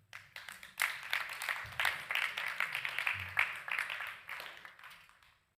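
An audience at a church service applauding, a short burst of brisk, evenly paced clapping that rises quickly, holds for a few seconds, then fades out.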